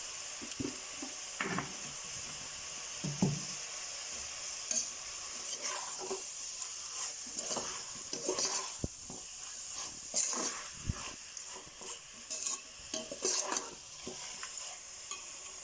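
Mushrooms stirred and frying in a pan while cooking a biryani, a steady soft sizzle and hiss with repeated scraping stir strokes close by, no talking.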